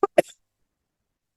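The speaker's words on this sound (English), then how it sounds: "Excuse me, I'm going to cough." Two short coughs from a person, close and fairly quiet, the second slightly stronger with a brief rasping tail, followed by silence.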